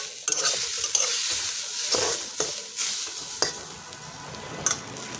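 Maan kochu, giant taro, being stirred and fried in a pan: repeated scraping strokes of a spatula over a soft close sizzle, with no talk.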